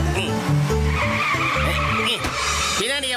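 A cartoon car skids while trying to park, loud squealing tyres and revving engine sweeping up and down in bursts, with cartoon voices talking over it.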